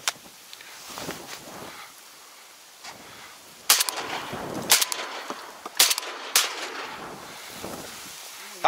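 Shotguns fire during an autumn duck hunt, several sharp outdoor bangs spaced about a second apart against faint background noise and quiet voices.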